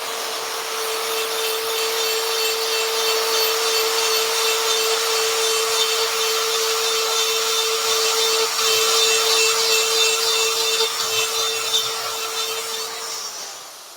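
A tungsten carbide burr with an MX cut, pressed lightly against a workpiece, gives a steady, unbroken high grinding whine that holds for about thirteen seconds, with no talking.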